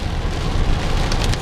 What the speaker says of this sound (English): It just turned into rain just now.